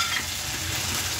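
Curry sizzles in a hot pan as it is sautéed, a brief steady hiss with faint stirring and no talking.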